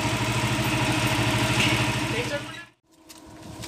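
A freshly tuned motorcycle with cleaned carburetor and new oil idles loudly and close by in a steady, even throb. It cuts out for a moment and then comes back, with someone speaking over it.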